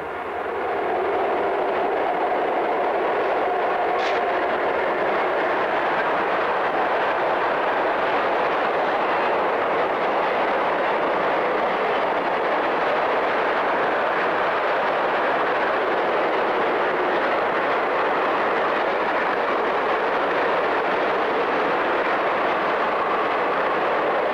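Southbound diesel locomotives 424 and 408 cross the Hillsborough Canal at Boca Raton in 1986, a steady broad rumble and roar held loud throughout with no talk.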